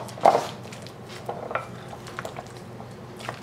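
Zucchini pappardelle is tossed with cheese and eggs in a pan, with scattered clinks and scrapes of a utensil against the pan, one sharper knock near the start and softer stirring after, close and fairly quiet.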